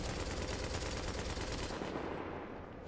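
A heavy weapon in the video game The Division fires in sustained rapid automatic bursts, loud and dense, tapering slightly near the end of three seconds.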